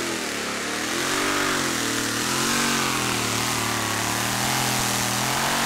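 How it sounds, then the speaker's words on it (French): Pulling tractor named Iron Power charging down the Bernay tractor pulling track at a Eurocup event, a loud, sustained engine roar with shifting harmonic pitch as it strains under load, close and continuous. "le tracteur se cabre énormément"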